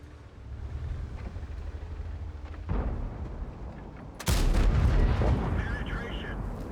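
Tank cannon fire in World of Tanks, two heavy booming shots a couple of seconds apart, the second louder and followed by a rumbling tail, over engine drone and faint background voices.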